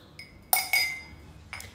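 Small Nespresso glass cups and little spoons clink together in a few bright, ringing taps, close by in a quiet room.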